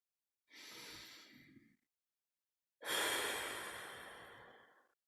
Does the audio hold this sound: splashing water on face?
no